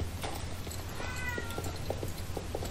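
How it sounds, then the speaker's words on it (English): A pet cat meows in the background of a room, one drawn-out wavering meow followed by short faint chirpy calls, under a low steady hum with no talking. "my cat is meowing in the background here"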